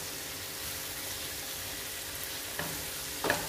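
Green chillies and curry leaves sauté in a pan over a low flame, a steady soft sizzle throughout with a couple of brief stirring clinks near the end; no talking.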